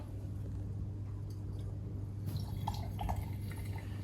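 Red wine is poured onto alkaline salts and heated, giving soft dripping and liquid trickles over a steady low hum, quiet and close, growing slightly busier as it goes on.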